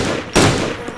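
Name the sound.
gunfire in the video game DayZ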